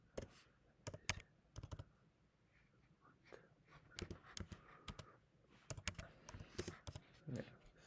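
Typing on a computer keyboard while filling in a Russian student visa questionnaire form. Quiet, irregular bursts of close keystrokes and clicks come in short clusters with brief pauses between them.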